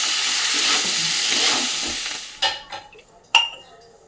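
Marinated kachki fish tossed into a wok of fried potatoes over a gas flame: steady loud sizzling that fades, then a few sharp stirring clatters near the end.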